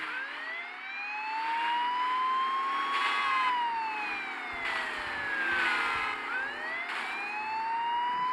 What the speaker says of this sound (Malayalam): എല്ലായിടത്തും പോലീസ് വണ്ടി തകർത്ത് വന്നുകൊണ്ടിരിക്കുകയാണ്